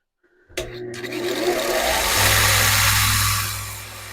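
A Palmgren 2x42 belt grinder switches on after a click and spins up, its motor whine and belt rush rising into a loud steady hum that holds before beginning to fade, with no one talking.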